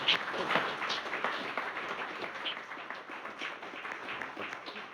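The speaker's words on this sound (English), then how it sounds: "I would ask you to please give these candidates a round of applause for stepping up." Audience clapping at a candidate forum for Texas House District 94, a steady wash of many hands applauding together for about five seconds, fairly distant and even, with no voices standing out.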